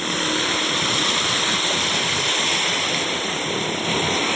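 Strong floodwater from a typhoon rushing past, a loud, steady, broad roar of churning current that fills the whole stretch without pause.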